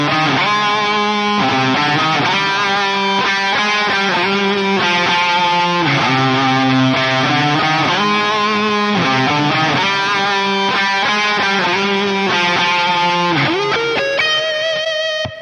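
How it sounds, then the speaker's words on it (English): Distorted metal lead guitar on a seven-string through a Toneforge Jeff Loomis amp sim with Skybox reverb and Echo Man delay, loud sustained melodic phrases with bends and ringing echoes, played alone without talk. "that's how the lead guitar tone sounded"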